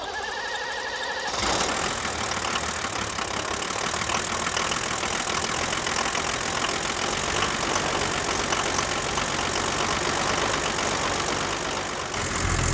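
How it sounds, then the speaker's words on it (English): A 1978 International Scout II with a Nissan SD33 diesel cranks briefly, then starts and settles into a loud, close, steady clattering idle that continues evenly throughout. "So let me go ahead and start it up. You guys can listen to the engine up close,"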